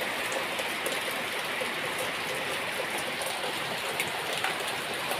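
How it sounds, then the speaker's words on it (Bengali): Rain falls steadily in a soft, continuous patter at moderate distance, holding an even hiss for the whole stretch with no voices over it. "এখন বৃষ্টি পড়ছে"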